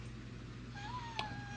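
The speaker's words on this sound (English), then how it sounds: "Here comes the kitty." A cat gives a single faint, drawn-out meow in a quiet workshop where a Farmall M tractor is being repaired, with a low steady hum underneath.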